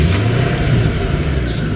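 1995 Chevrolet Corvette Indy pace car replica with stock mufflers, its engine turning over and catching into a close, steady idle rumble.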